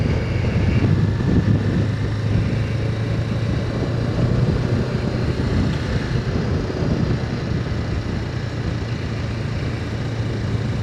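Engine of a 2025 Honda Rebel 500 motorcycle riding steadily along a quiet neighborhood street, a continuous low rumble with broadband road and wind noise and no break for a gear change evident.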